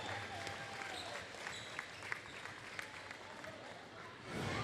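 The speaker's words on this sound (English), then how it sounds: "Big round of applause once again for Hazen" A crowd in a gym applauds a senior player at a high school basketball game between the Heritage Hawks and Shoreline Christian Chargers, producing a faint, distant, steady wash of clapping and crowd noise.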